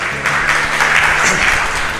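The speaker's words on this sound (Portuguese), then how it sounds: "agora vamos dar uma salva de palmas para toda a diretoria" Steady applause from an audience at a board installation ceremony and cultural evening, a dense wash of many hands clapping throughout with faint voices underneath.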